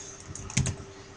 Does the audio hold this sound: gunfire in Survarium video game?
no